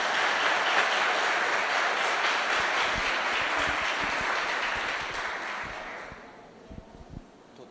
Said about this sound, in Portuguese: Pode louvar a Deus com as suas palmas.